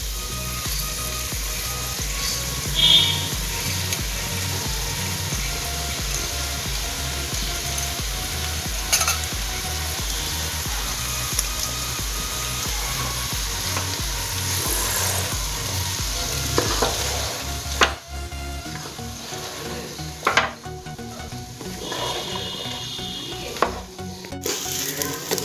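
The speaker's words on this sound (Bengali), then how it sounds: "আমি আবার এটাকে ভালো করে নেড়ে নিচ্ছি" Basmati rice for matar rice sizzles steadily in a hot pan while being stirred, with a continuous frying hiss broken by soft scraping and occasional clinks of the spoon against the pan.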